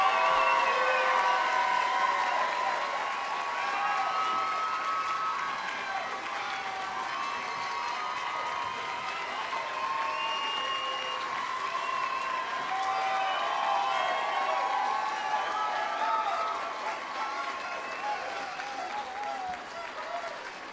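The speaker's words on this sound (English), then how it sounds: "I think just one more round of applause." Sustained applause at a college nursing pinning ceremony, a broad crowd clapping continuously for a long stretch with voices and cheering mixed in, fairly even in loudness.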